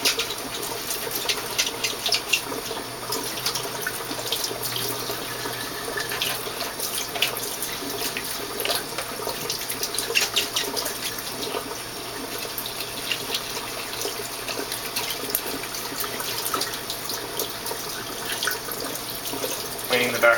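Water runs steadily from a hose during cleaning, a continuous splashing wash with no breaks that stays fairly loud across the whole stretch.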